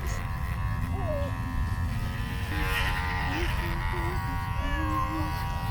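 A fluffy cat meows several times in rising and falling calls while electric clippers buzz steadily throughout the shave, close and fairly loud.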